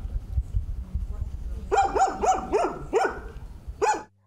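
Several dogs at a shelter bark in a quick run of five or six sharp woofs, then one more after a pause, rising out of low rumbling background noise.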